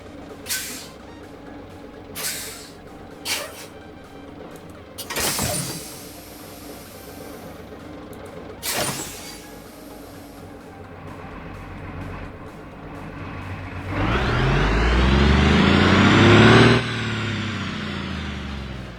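Custom sounds of a Freightliner FS-65 bus mod in the BeamNG.Drive game: sharp hissing air-brake bursts at intervals, then a louder sustained engine rev near the end.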